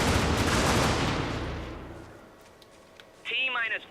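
Gunshots in a video game: a loud burst of gunfire at the start decays into a rumbling tail, then a brief voice is heard near the end.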